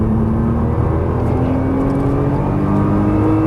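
Nissan GT-R engine under full throttle on a track, a loud continuous drone with a slowly rising pitch as the car accelerates, steady and close throughout with no talk.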